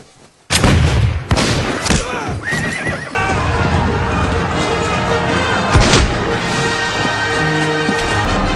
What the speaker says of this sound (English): Patriots are going to fire first, then the Pirates are going to follow